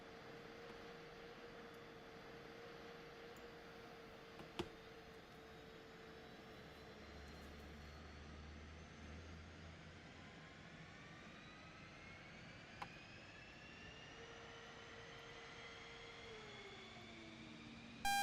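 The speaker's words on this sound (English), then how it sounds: "Let's go, engine, do your thing." Jet engine of an F-15E Strike Eagle spooling up during a military exercise, a steady broadband roar with tones climbing in pitch, heard from inside the aircraft with no talk.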